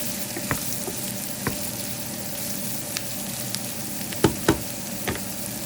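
Food fries in an Instant Pot with a steady, quiet sizzle, broken by a few sharp clicks and light stirring sounds and a couple of louder taps near the end, with no talking.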